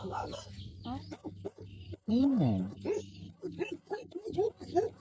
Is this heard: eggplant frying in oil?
no